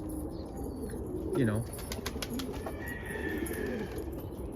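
Pigeons coo at an opened loft in the morning, with low throaty calls and a brief flutter of wings while someone talks nearby over soft outdoor background noise.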